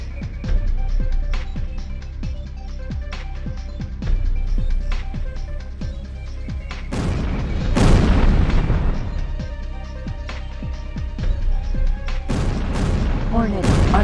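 Hornet missiles explode in the space combat game X2 The Threat: several deep booms, loudest around the middle and near the end, rise over a rumbling backdrop of game effects and repeated short cracks.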